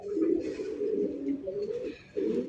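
Old-breed Golla pigeons coo steadily and close by, low throaty calls running almost without pause and broken by one brief lull near the end.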